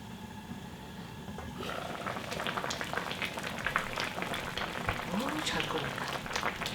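A pot of pork backbone and potato soup (gamjatang) simmers with quiet, dense bubbling and crackling that swells after the first moments, low in level, with faint voices nearby.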